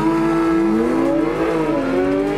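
A Porsche GT3 launches from a race start, its engine loudly revving and accelerating with rising pitch through the gears, sustained and close, with no talk over it.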